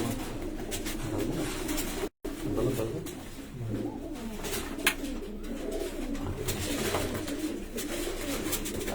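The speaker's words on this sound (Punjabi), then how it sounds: "ਉਸਤਾਦ ਹੋਰਾਂ ਦੇ ਘਰ ਦੇ ਕਬੂਤਰ ਨੇ ਜੀ" Pigeons coo at an ustad's house among high-flying pigeons, soft low throaty coos repeating at a moderate distance over background noise, with occasional voices nearby.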